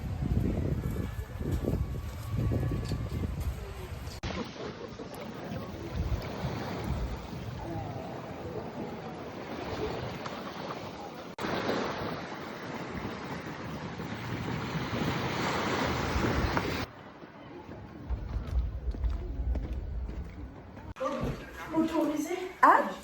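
Surf and gusting wind on the beach at La Ciotat, a broad steady roar of waves with wind buffeting the microphone, rising and dropping in sections, with people talking over it at times.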